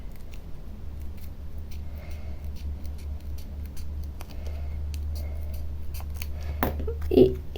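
Scissors snip through paper for an art journal page, a few soft quiet cuts over a low background hum, ending with a louder sharp snip.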